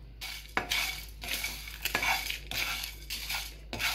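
Red chilies dry roasting in a pan for a smoked chicken gravy give a quiet rhythm of repeated scraping stirs and light rattles against the metal, with a faint sizzle between strokes, and no talking.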